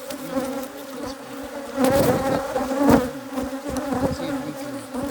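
Africanized hybrid honeybees swarm around an open beehive, a dense steady buzz of many insects close by, with louder swells as bees pass near.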